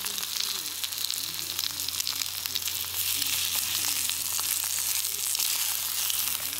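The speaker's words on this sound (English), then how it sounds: "I'm using my little adjustable stove here" Food sizzles and crackles steadily on a small adjustable camping stove outdoors, a close, continuous frying hiss with a low burner hum beneath it.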